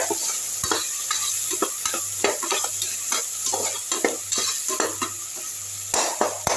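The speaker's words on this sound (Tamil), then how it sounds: "இப்போ சாம்பார் வெங்காயம் பேஸ்ட் எடுத்து இந்த எண்ணெயில் போட்டுடலாம் நல்லா வதக்கி விட்ருவோம்" Shallot paste sautéing in hot oil for an okra gravy, a constant bright sizzle broken by regular scraping stirring strokes and small utensil taps, close and without speech.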